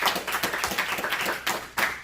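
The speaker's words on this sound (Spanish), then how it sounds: "Dele un aplauso al Señor y créalo." A church congregation claps together, a quick, uneven patter of many hands close by, swelling and dipping over about two seconds.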